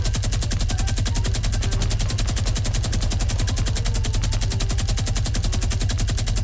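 Rapid machine gun fire in the video game Fortnite, a loud, dense stream of shots hammering on without a break for the whole stretch, with no voices over it.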